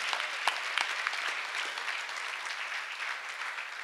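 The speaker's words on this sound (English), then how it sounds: "Can we clap for Master Jesus?" A church congregation claps together in thanksgiving during a testimony service, a dense steady patter of many hands at moderate distance, with a few sharper claps standing out near the start.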